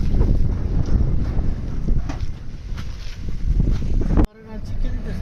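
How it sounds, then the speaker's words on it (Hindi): Strong, cold wind at Al-Hada near Taif buffets the microphone with loud, gusty rumble throughout, dropping abruptly near the end, with a voice talking underneath. "इसमें हवा काफ़ी ठंडी महसूस हो रही है और तेज़ भी है"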